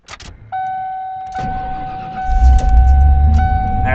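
A truck engine cranks and catches, a steady chime tone sounding through the start, then the motor settles into a loud, close, rumbling idle with small clicks and cabin noises around it.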